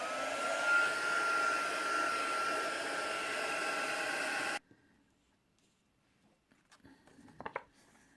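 A heat tool blows with a loud, steady whirring hum while drying a Brusho crystal colour craft project, then cuts off abruptly, leaving faint rustling and light handling noises.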